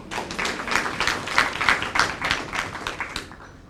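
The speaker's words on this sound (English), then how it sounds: "Give yourselves a round of applause for that." Applause from a breakfast audience at a realtors' association meeting, a dense patter of claps that rises and falls over a few seconds at moderate volume.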